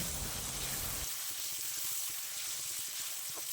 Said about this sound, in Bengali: মাছের তেলটাও খুব ভালো করে একটু ভেজে নেব।